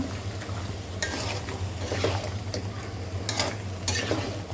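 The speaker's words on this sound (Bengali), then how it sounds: "এখন মিষ্টি কুমড়াতে আবার একটুখানি কষিয়ে নেব অনেকক্ষণ পর্যন্ত" Mutton and sweet pumpkin sauté in a pan, a low steady sizzle punctuated by repeated scraping strokes of a spoon, heard over a faint background hum.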